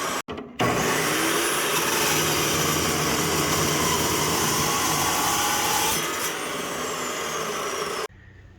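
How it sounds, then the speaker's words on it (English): A power saw cuts miters in a firetruck suction line pipe, a loud steady whining grind running for about eight seconds before stopping abruptly, with no talking. "You just seen me cut those couple miters"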